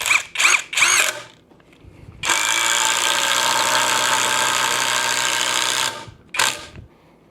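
A Milwaukee M12 Fuel impact driver drives a screw into pressure treated lumber with no pilot hole, a loud steady whirring hammer lasting about four seconds, followed by a brief second burst after short taps.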